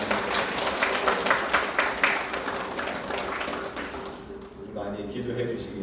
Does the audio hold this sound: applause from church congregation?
yes